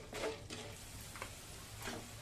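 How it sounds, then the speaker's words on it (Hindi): Edible gum (gond) frying in desi ghee in a pan, a faint low sizzle with several soft crackling bursts, close by and with no voices. "अभी हम अपने गोंद को फ्राई करेंगे।"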